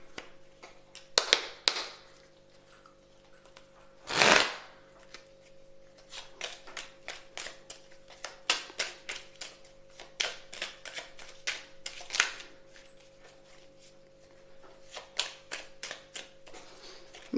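Angel oracle cards being shuffled and handled, a run of soft papery flicks and taps in bursts, near and quiet, with one louder rustle and a faint steady hum underneath.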